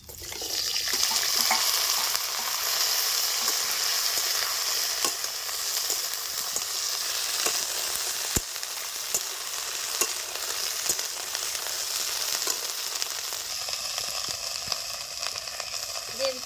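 Drumstick pieces of sajna data, with whole cumin seeds and a bay leaf, sizzling steadily in hot oil in a pan, a loud continuous fry broken by occasional stirring clicks and no talk over it.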